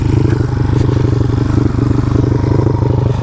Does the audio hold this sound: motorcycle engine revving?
yes